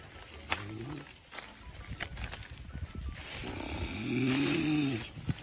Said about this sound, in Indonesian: Dia tidur sambil makan, ngorok guys.